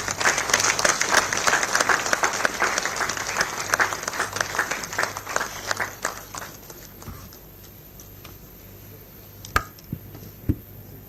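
Audience applause at a formal DefSAT 2024 gathering, a dense patter of clapping that builds early and then thins out to scattered claps near the end.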